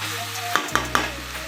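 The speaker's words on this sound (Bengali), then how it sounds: "এখন আমি একটু এতে জল দিব।" Water goes into a pan of sizzling chicken liver and stomach curry. A brief burst of hiss and crackle comes with three quick sharp taps, close and alone.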